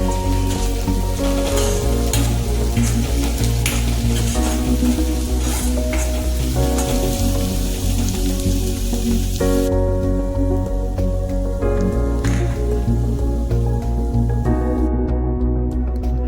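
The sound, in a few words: garlic paste frying in oil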